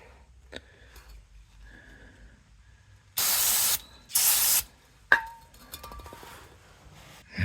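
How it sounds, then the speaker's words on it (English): Two bursts of brake cleaner from an aerosol can, each roughly a second long and loud, hissing sharply, then a metallic clink and a few light handling clicks while fitting a Mopeka Pro Check fuel gauge sensor to a gas tank. "Get some brake cleaner."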